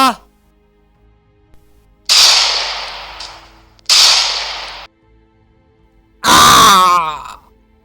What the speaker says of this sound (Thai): ปืนในมือของไอ้จูแผดสนั่นขึ้นสองนัด